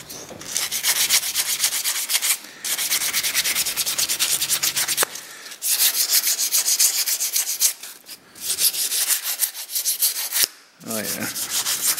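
Wood hand-sanded with 180-grit sandpaper, loud close rasping strokes in long back-and-forth runs, broken by brief pauses between passes.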